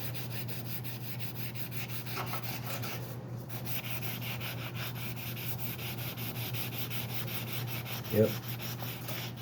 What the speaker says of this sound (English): let the sanding block do the work for you.